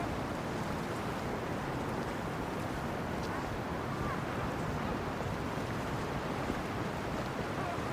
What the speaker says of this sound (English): The waves, you know.